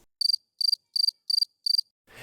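Crickets chirping as a sound effect: five evenly spaced, bright trilled bursts sound close and clear against silence, then a brief noisy swell at the end.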